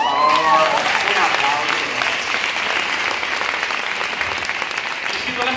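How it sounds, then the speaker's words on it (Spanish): Audience applause at a student festival on a university campus in Segovia, a dense sustained clapping wash that stays loud throughout, with a voice speaking briefly at the start over it. "Un aplauso, por favor."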